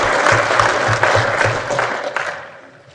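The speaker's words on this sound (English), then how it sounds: "I think we need to give him a round of applause right from the get-go" A room full of people claps steadily, the applause loud at first and then tapering off.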